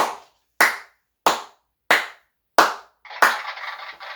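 Six sharp, evenly spaced hand claps ring out close and loud with silence between them. A burst of softer noise trails the last clap.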